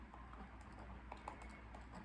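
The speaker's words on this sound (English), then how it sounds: "typing" Quiet tapping on a computer keyboard, a rapid, uneven run of soft key clicks close by in a calm room with no one speaking.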